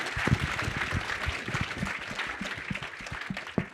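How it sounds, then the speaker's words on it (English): An audience at a talk on regenerative dairy farming applauds a speaker, with steady, dense clapping from many hands that carries on throughout at moderate loudness. "let's give him a round of applause"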